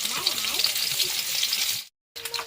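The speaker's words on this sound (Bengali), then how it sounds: "এবার ডিমগুলো ভেজে নেব।" Eggs fry in hot oil in a home kitchen, giving a close, steady sizzle with crackling. The sound cuts out briefly near the end, then the sizzling resumes.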